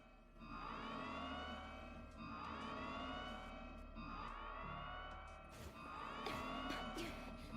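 A video game siren wails, sweeping up and down in repeated cycles about every two seconds, over a low rumble, with a few faint voices at the end.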